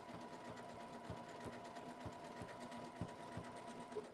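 A Janome sewing machine stitches at a fast, steady pace, its needle making an even rhythmic clatter of regular beats at low volume, close by and with no talking.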